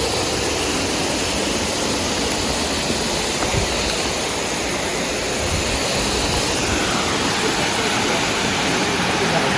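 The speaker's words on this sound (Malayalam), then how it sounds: "കല്ലാർ മീൻമുട്ടി വള്ളച്ചാട്ടം എന്ന് പറയുന്നത്" Kallar Meenmutti waterfall on the Kallar river, a steady, loud, close rushing roar of falling water that holds unbroken throughout.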